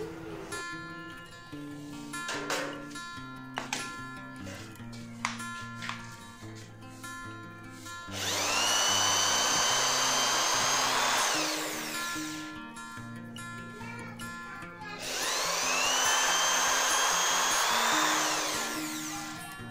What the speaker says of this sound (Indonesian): Uji coba berikutnya, media pengeborannya adalah hebel atau bata ringan.